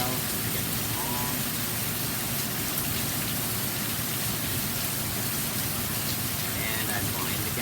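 Heavy rain easing off after a hailstorm, a dense, even wash of drops pattering across surfaces, steady and loud throughout with no distinct pauses.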